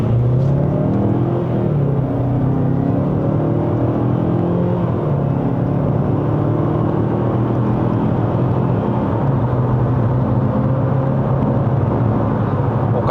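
A 2020 Mazda CX-5 2.5 Turbo 4WD accelerates hard in Sport mode during a 0–100 run, its engine drone rising steadily in pitch through the gears, loud and continuous from inside the cabin.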